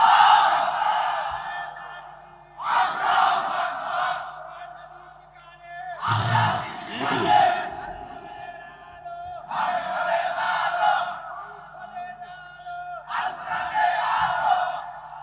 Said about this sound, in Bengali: একটা তাকবীর দেন তো